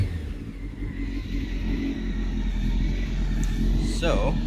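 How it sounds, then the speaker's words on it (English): A 1997 Honda CBR 600F3 sport motorcycle with its original exhaust idles with a low, rough rumble close by, steady and fairly loud, ending in a brief rising rev. "So what I like about this bike is the sound."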